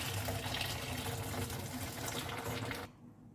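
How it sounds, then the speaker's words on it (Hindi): Water from boiled taro root is poured off and drained, a steady loud splashing rush that stops abruptly near the end, leaving faint background noise. "अब इसका जो पानी है ना हमें निकाल देना है।"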